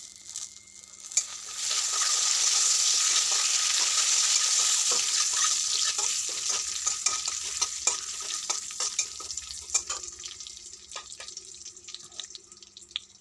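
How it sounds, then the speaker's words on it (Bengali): Crushed cardamom, a cinnamon stick and a bay leaf dropped into hot ghee, a loud sizzle that swells after about two seconds and then eases into softer crackling and stirring taps, with no voices. "ঘিটা গরম হয়ে গেছে এবার আমি দিয়ে দেবো তিনটে থেতো করা এলাচ আর একটা দারচিনি আর দিয়ে দেবো একটা তেজপাতা"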